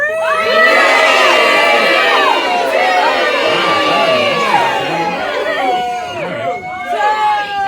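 A large audience, including children, yells loudly and continuously for a countdown, a dense wall of shouting and cheering that stays full for about eight seconds and only slightly thins toward the end.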